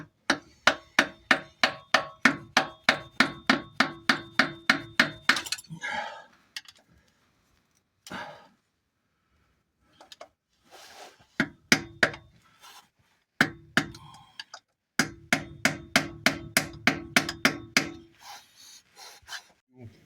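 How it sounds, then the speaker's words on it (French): A hammer strikes a pin punch to free the anti-torque engine mount on a Peugeot 205 GTI, in fast rhythmic volleys of sharp metallic blows separated by pauses. "même avec un chasse-goupille, j'ai réussi à taper des deux côtés"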